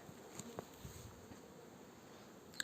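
Honey bees flying around an apiary in late September, a soft, steady buzzing drone with a few closer passes, faint and without speech.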